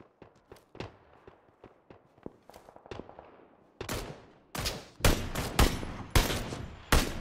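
Gunfire from an SKS rifle in the video game PUBG rings out as a sequence of sharp, separate shots: quieter, distant cracks at first, then louder, close, evenly spaced reports in the second half.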